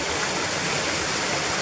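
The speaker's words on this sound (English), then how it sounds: "Second place we've visited with another waterfall and another beautiful place to actually have an overnight camp." A waterfall in Harthope Valley roars steadily with broadband rushing water, close and loud throughout, no voices.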